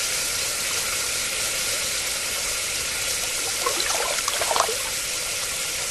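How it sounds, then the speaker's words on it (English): A hot extruded aluminum tube cools in water, giving a continuous steamy hiss with a few bubbling, trickling bursts near the end, close and fairly loud, with no voices. "Cool in water."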